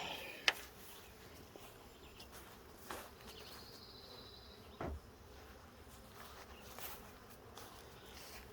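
Honeybees hum faintly and steadily around an open hive during an inspection, with a few soft knocks and handling sounds over the low drone.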